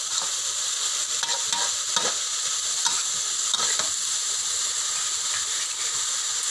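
Hed thob mushrooms stir-fried in a pan, a steady close sizzle with soft intermittent scrapes of the spatula running throughout, no voices.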